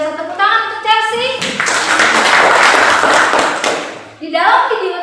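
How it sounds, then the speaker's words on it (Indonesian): A classroom of students breaks into brief, loud, close applause for a classmate, with voices heard just before and after the clapping. "Tepuk tangan untuk Chelsea"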